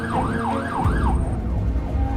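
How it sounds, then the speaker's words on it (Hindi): An ambulance siren wails, sweeping up and down in quick, regular cycles over engine and traffic rumble, then fades into the background noise. "सायरन ऑन करो जल्दी।"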